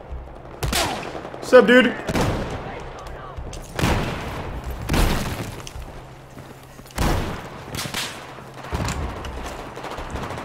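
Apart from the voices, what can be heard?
grenade and RPG explosions and gunfire in the video game Battlefield 4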